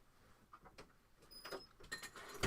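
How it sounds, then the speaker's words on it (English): A door swings shut indoors in a quiet home craft room, a few soft scuffs building to a firmer knock and click at the end, moderately close and with no talking. "I'm just going to close the door really quick."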